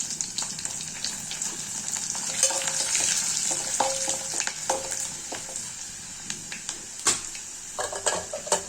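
Garlic cloves fry in hot oil in a pan for a fenugreek leaf kulambu, giving a continuous bright sizzle broken by scraping stirs and light utensil taps against the pan, close and steady throughout.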